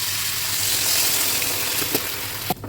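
Spine gourd frying in a pan, with a steady loud sizzle throughout and a brief burst as water is added near the end, with no voices.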